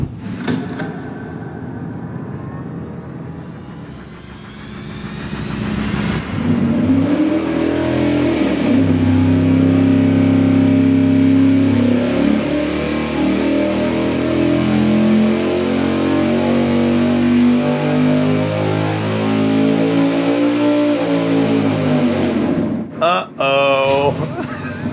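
A big block engine with an Edelbrock Super Victor 2 intake manifold roars on a dyno, sweeping up in a long, loud, sustained pull lasting nearly twenty seconds before cutting off abruptly.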